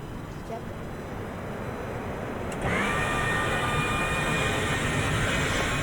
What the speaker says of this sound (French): là je ferme la verrière pour qu'on m'entende mieux